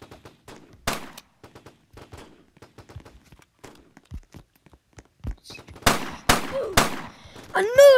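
Sniper rifle shots in a Game Boy Advance video game: a few sharp, bright electronic bangs near the end, following sparse soft ticks and thuds, with a rising tonal blip at the close.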